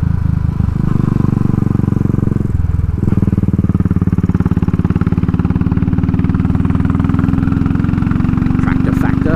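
Royal Enfield Classic 500 Race Dynamics with a Powertronic-tuned single-cylinder engine thumps loudly and steadily while riding, with a brief dip as the throttle eases before pulling again under rushing wind.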